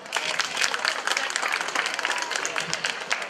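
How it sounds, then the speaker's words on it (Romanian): An audience at an interethnic festival concert in Tulcea, Romania, claps in dense, steady applause that stays close and loud for the whole stretch, with no voices over it. "Aplauze!"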